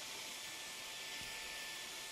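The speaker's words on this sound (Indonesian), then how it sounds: "vacuum cleaner ini." Household vacuum cleaner running, a steady, bright hissing whine that is constant and unbroken throughout, heard alone without voices.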